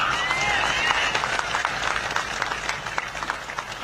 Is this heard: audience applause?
yes